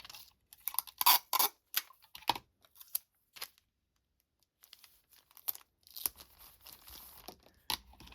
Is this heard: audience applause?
no